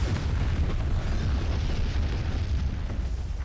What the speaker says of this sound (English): We got one-shotted by a tank.